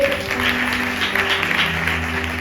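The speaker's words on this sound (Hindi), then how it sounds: "ताली बजाएंगे" Church congregation clapping during a sermon, a steady broadband patter of many hands under sustained tones of background keyboard music, continuous for a couple of seconds.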